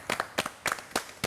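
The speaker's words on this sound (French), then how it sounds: "Et ça s'applaudit." A few scattered hand claps from a small audience during a French-language talk show, five or six sharp separate claps over about a second, moderately close and with no voices.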